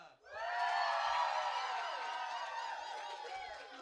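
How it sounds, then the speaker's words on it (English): A large crowd roars and cheers loudly and steadily for several seconds, a broad sustained wall of voices with whoops that fades slightly toward the end. "let's say we say Shayla and the crowd goes wild."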